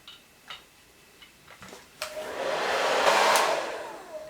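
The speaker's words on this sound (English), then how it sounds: "as your blow dryer works, it's just gonna get hotter and hotter" A hair dryer blows on wavy hair, first faint with a few sharp ticks, then swelling into a loud, steady whoosh that fades slightly near the end, alone without talk.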